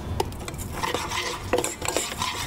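Rice is stirred and fried in ghee in a pan, with a steady sizzle under continuous scraping of a spoon against the metal, close and fairly loud, with no talking.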